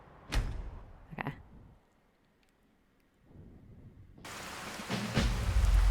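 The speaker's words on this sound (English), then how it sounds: "Oh, and it's raining." Rain falls and thunder rumbles in Skyrim VR, the fantasy video game, near the town of Whiterun: two sharp thunder cracks, a quiet gap, then a loud steady downpour with a heavy rumble at the end, no talking.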